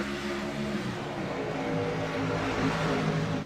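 A NASCAR race truck in iRacing at Bristol accelerates hard at full throttle after the pace car pulls off, its engine a steady, loud, droning roar that climbs slightly in pitch over a few seconds, with no talking.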